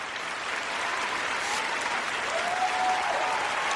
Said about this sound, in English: Anthony Moe, ladies and gentlemen, give him a great big hand.